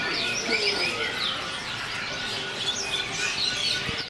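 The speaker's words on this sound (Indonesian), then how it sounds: "Masih di jalur burung cucak hijau" Greater green leafbird (cucak hijau) singing a continuous run of varied, warbling chirps and whistles, fairly close and steady throughout with no talk.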